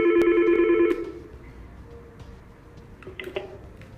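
An analog phone extension on a Yeastar system rings with a warbling electronic tone for about a second, then stops, leaving quiet background with a few faint clicks.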